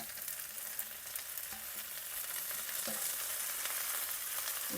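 Fresh garden moringa (drumstick) leaves fry in a pan with a steady, close hiss and sizzle, with a few faint taps of stirring and no voices.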